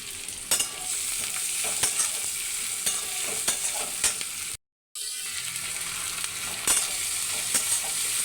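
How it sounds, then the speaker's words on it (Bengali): Onions and chillies sizzle continuously in a pan with salt while cooking a crab curry, with occasional stirring scrapes; the sound cuts out briefly midway, then resumes. "পেঁয়াজ লঙ্কাটা ভাজা করছি"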